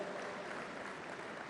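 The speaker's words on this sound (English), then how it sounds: "I think we should give them a big round of applause for accepting the honors." Audience applause at the inaugural session of a gathering addressed by India's Union Minister for Information and Broadcasting, honouring award recipients; a steady, dense wash of clapping holds evenly throughout, somewhat distant and moderately quiet.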